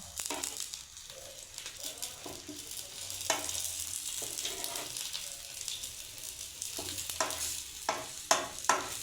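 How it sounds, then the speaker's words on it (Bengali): An omelette is rolled around chow noodles in a hot frying pan, giving a continuous sizzle and fry with spatula scrapes and clicks on the pan, close and fairly loud throughout. "চাউটা আমি দিয়ে এবার আমি মামলেটটাকে রোল হিসাবে আমি গুটিয়ে দিচ্ছি।"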